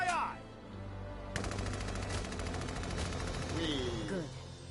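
Rapid automatic gunfire bursts from the video game Valkyria Chronicles 4, a sustained rattling volley of shots with game sound effects and brief voices around it.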